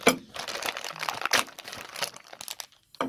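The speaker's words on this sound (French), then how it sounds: "On va déjà déballer toutes les petites pièces comme ça là." Small parts for a Bosch GTS 10 XC table saw are unwrapped from their packaging, with crinkling plastic and paper rustling in irregular close bursts, then a short pause and a final crunch.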